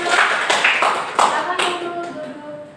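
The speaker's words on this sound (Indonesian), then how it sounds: "Oke, tepuk tangan untuk" A school class of eighth-grade students claps in a short burst of several quick, loud, uneven hand claps that taper off, heard up close in a classroom.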